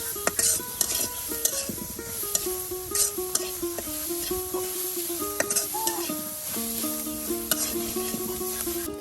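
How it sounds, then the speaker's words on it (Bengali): Onions fry on a village clay stove to a soft sizzle, with repeated scraping and clinking of a spatula against the pan over steady background tones. "এদিকে কিন্তু ভালো করে পেঁয়াজগুলো ভেজে নেওয়া হচ্ছে"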